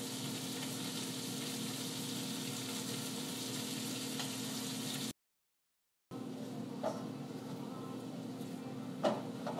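Seasoned seafood frying in a pan gives a steady, moderate sizzle with faint crackles, broken by a short silent gap before the hiss resumes a little softer, with no voices.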